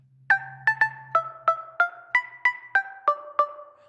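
Synthesized modular percussion built from a sine wave pitched up an octave and a triangle wave with short decay: about eleven evenly spaced, pitched plucks tap out a steady rhythm, each a sharp attack that quickly fades, heard alone.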